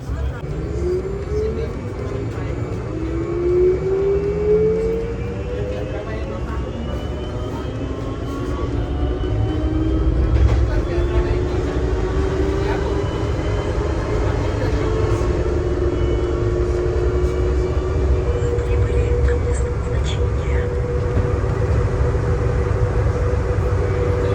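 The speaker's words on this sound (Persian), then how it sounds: "این هم یکی از متروهای بی‌سرنشین در میدان هوایی شهر دگال پاریس." Driverless metro train at Charles de Gaulle airport in Paris: a continuous rumbling ride with rising and falling whine of motors, loud and close throughout, while someone talks over it.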